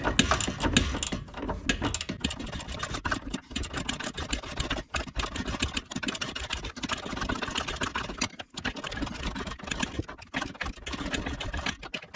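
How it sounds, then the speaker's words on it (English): A ratchet wrench works on the front sway bar end link of a 2015 Jeep Renegade, producing dense, continuous metallic clicking and grinding with uneven bursts, loud and close throughout. "the ratchet's kind of pinned up against it, set to the correct mode, and then I'm just using the wrench"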